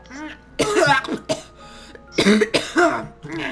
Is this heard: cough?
yes